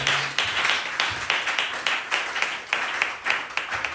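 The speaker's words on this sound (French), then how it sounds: "Applaudissez un peu le Seigneur." A church congregation at a Sunday service claps in steady rhythmic unison, sharp evenly spaced claps continuing for a few seconds at moderate loudness.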